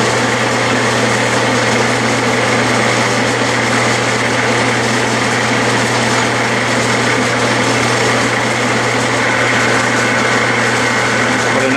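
A Clausing lathe cuts a thread with a pre-ground tool, giving a steady loud motor whine and hum that holds evenly throughout without talk.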